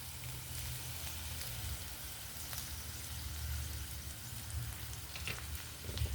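Gongura leaves frying in a drop of oil in a pan for beerapottu gongura roti pachadi, giving a steady, even sizzle and crackle throughout with no voices.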